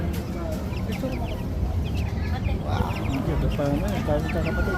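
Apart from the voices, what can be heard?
chicken clucking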